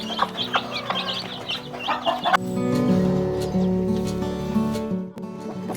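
Chickens cluck and chatter nearby, then a naked-neck rooster's long, loud crow takes over with hens murmuring underneath.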